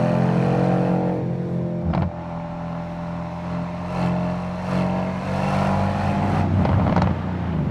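Mercedes-AMG C63 S Facelift accelerating out of a corner on the Bilster Berg race track, a loud, sustained engine roar that rises and falls with gear changes and stays close throughout.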